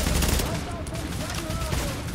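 Rapid gunfire from a PS4 co-op session of The Division in a subway morgue, a dense, loud, continuous barrage of shots with voices talking over it.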